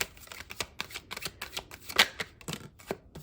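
A Radiant Rider-Waite tarot deck being shuffled by hand, a close, crisp series of riffling card flicks and slaps in irregular bursts, alone without talk.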